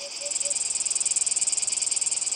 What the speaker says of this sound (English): In summer, the forest is filled with the strident songs of cicadas.